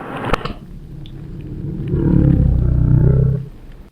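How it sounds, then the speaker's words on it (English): Video audio played backwards at slow-motion speed becomes a deep, drawn-out roaring drone that swells louder through the second half, heard alone with no talking. "it will play backwards in that slow motion sound."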